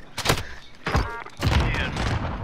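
Rapid bursts of gunfire in a Call of Duty: Modern Warfare match, three loud volleys close together with thumping impacts, mixed with game noise.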